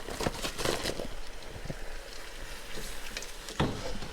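Onions for French onion soup cook in a pot and are stirred, giving a soft, steady sizzle with occasional scraping and clinks of the spoon, fairly quiet and close.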